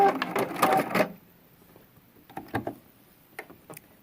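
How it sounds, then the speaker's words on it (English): A sewing machine stitches a pillow seam, running in a dense rapid burst for about a second before stopping, followed by a few faint scattered clicks and handling sounds. "And we're done with the sewing machine."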